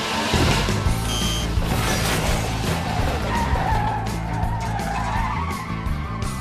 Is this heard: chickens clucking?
no